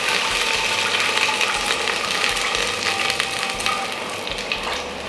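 Fried ground beef sizzles loudly in a pan after water is poured in, a dense steady hiss and crackle lasting throughout, close up, easing slightly toward the end.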